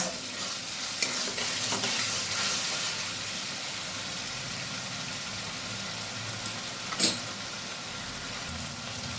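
Poppy seed spice paste loosened with water fries in a pan over low heat with a dense, steady sizzle. A couple of faint scrapes from stirring come through, and nobody speaks.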